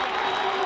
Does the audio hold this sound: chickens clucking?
no